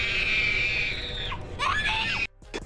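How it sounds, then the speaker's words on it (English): A little girl in a horror movie lets out a long, shrill scream that breaks into shorter, wavering cries before cutting off abruptly. "this little girl's scream is epic"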